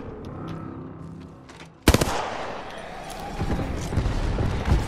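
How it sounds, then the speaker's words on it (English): An airstrike in Apex Legends sets off a sudden heavy blast of rapid booming impacts that merge into a dense rumbling barrage. Quieter game noise comes before the hit and rolling explosions follow it. "Calling the airstrike"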